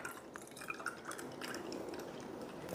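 Ice water being poured into a glass, with soft dripping and liquid trickles at close range, steady and fairly faint, in a quiet room before a Thai food meal.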